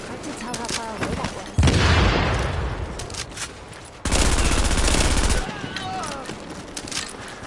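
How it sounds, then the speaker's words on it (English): Heavy automatic gunfire from The Division video game comes in two loud sustained bursts, with scattered shots and game ambience in between, and a voice speaks in between the bursts. "Nice shooting there."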